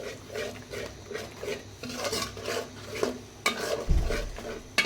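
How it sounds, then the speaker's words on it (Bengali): A spoon stirs and scrapes spice paste frying with green chilies in a pan for a bottle gourd curry, giving a soft, steady rhythm of scraping strokes over a low sizzle, with one louder clatter near the end. "মশলাটা ভালো করে কষায় তারপরে লাউগুলো দিয়ে দিব"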